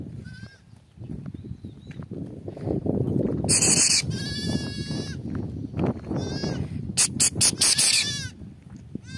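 Sheep and goats bleat repeatedly while grazing in a stream valley, some calls near and loud, others farther off, over a low background rumble and scattered rustling.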